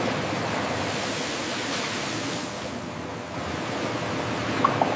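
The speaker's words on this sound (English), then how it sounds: "Rinsing prepares them for inspection." Water rushes steadily over potatoes being rinsed in a potato chip factory, a loud continuous spray or wash noise with no pauses.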